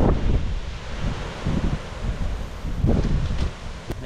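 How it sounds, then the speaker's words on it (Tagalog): Strong wind at the sea before a typhoon buffets the microphone in heavy, irregular gusts with rumbling bursts and a hissy rustle throughout, no speech. "Obserbahan po yung panahon kasi malakas po yung hangin eh."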